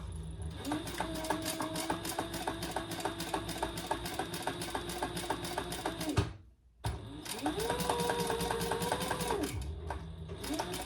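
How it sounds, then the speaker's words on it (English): Sewing machine stitching a purse with a short stitch length, a steady fast close mechanical whir, pausing briefly near the middle and then resuming. "when I'm using and sewing in a small space, I always use a smaller stitch length"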